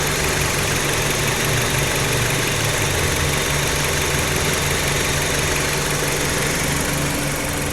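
A 2010 Dodge Journey with a 2.4 engine and automatic transmission idles close by, a loud steady hum with a faint mechanical ticking and no voices.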